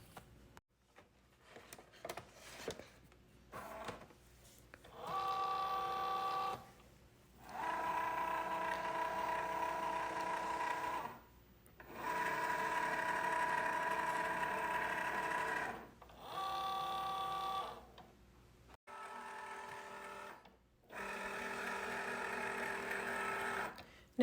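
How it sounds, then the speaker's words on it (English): A Cricut Joy Xtra cutting machine at work on clear holographic sticker sheets, its motor whirring in bursts of a few seconds separated by short pauses and light clicks, close and steady with no talking. "Now the Cricut is going to read the registration marks so that it knows where to cut around each image."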